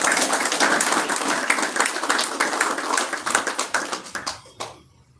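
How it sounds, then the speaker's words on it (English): A lecture audience of about a hundred people gives a steady round of applause, dense clapping that thins into a few scattered claps and then stops. "We need a please round of applause"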